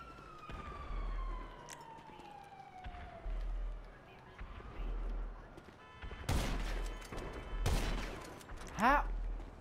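Bursts of gunfire erupt in a GTA game, a few sharp loud volleys in the second half following a siren-like falling tone, with talk and background game sounds in between.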